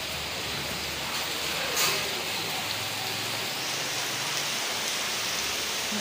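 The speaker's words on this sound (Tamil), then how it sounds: "மழை தண்ணி மாதிரி கொடுது, பத பத பத பதன்னு கொட்டுது." Heavy rain pours down in a cyclone over Chennai, a steady, loud, dense hiss of falling water with a brief louder surge, and no talking.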